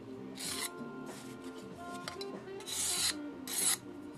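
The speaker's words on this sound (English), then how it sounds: "This little scraper is really great for taking off just the sharp edges on stuff." Hand scraper shaving sharp edges off 3D-printed PLA plastic, a handful of short, close scraping rasps in quick succession, quiet and dry, with no talking.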